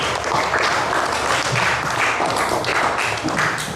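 Classroom applause from students during a teaching session, a steady wash of many hands clapping close by, even and continuous for a few seconds.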